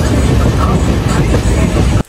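A passenger train pulling out of Tamluk Junction on the Howrah to Digha line, with a steady, loud rumble of wheels on rails and a dense low roar that continues throughout while it rains.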